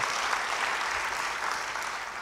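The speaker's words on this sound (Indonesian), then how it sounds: "Yang mau beri tepuk tangan bagi dia." A church congregation applauds during a sermon, a continuous wash of many hands clapping at a steady, fairly loud level with no speech.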